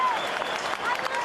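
A large stadium crowd of about 28,000 applauds at an Australian football match between Kangaroos and Hawthorn, a broad continuous wash of clapping and cheering heard under a commentator's voice.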